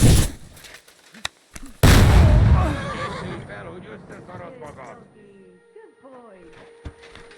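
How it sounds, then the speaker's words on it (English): Gunfire in the video game Kingdom Come Deliverance II: a loud, sharp burst cracks out early, followed by a horse neighing and shouting voices, with a few fainter bangs and hoofbeats trailing off. "Someone's shooting!"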